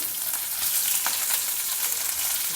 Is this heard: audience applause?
no